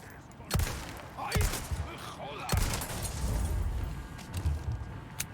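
Several sharp gunshots crack from the Resident Evil 4 Remake game in irregular bursts, with low rumbling between them and people talking underneath.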